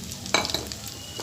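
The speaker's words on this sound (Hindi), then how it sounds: "सिर्फ इसको चंद सेकंड इसमें फ्राई करना है ऑयल में, ताकि ज़रा इसका ऑयल में अच्छा सा कलर आ जाए।" Ground cumin, crushed red chili and garam masala hit hot oil for a potato curry, giving one short, fairly loud sizzling burst that quickly fades to a low hiss.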